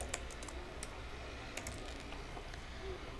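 Computer keyboard keys tapped in a steady run of light, close clicks over a low room hum, with no voices.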